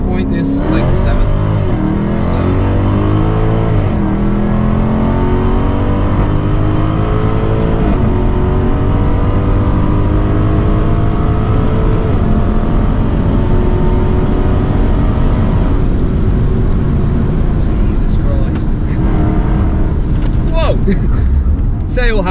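A Jaguar F-Type SVR driven flat out on a track in track mode with stability control off: a loud engine roars and climbs through the revs, with gear changes, under someone talking inside the car.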